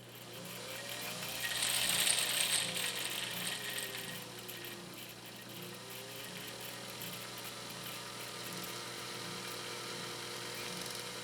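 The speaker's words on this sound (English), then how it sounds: "By pushing this in right here, we can bypass this release and you can continue sewing." A Japanese clone sewing machine, a 1.0 amp Midwest model, runs with its bobbin winder release bypassed, giving a continuous close mechanical whir that swells early, then settles into a steady hum.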